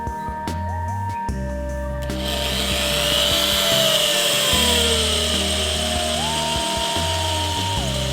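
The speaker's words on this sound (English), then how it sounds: "Now we'll drill a hole, as I said, a 1/4 inch for the bolt that we purchased." A power drill bores a quarter-inch bolt hole for a homemade camera mount, its motor whining in steady bursts that rise and fall in pitch with grinding, rubbing noise as the bit cuts, close and loud.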